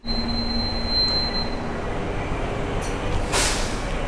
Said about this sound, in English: Here is one more airport train waiting.